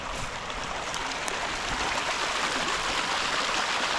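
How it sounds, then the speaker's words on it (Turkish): Ice-cold water in a mountain stream near Sinanpaşa, Afyonkarahisar, flows and babbles in an unbroken, fairly loud rush close by. "Dere akar güldür güldür güldür."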